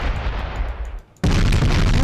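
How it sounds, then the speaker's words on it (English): Main battleship cannon firing in Space Engineers: loud, sustained booming rumble, a brief drop to near-silence, then a second heavy blast erupting abruptly and holding at full loudness. "take control of one of the main battleship cannons"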